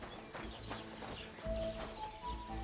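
Horses in Kingdom Come Deliverance 2 clop their hooves in a short irregular series of light knocks, moderately close, with faint birdsong and ambient game music behind.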